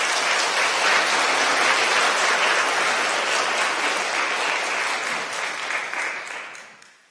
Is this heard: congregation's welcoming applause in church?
yes